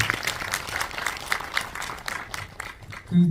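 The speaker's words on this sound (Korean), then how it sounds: "박수 한번 치고 넘어가도록 하겠습니다" Audience at a Korean independent film screening clapping briefly, a fairly dense round of hands that fades out within about three seconds, ending with a short low voice.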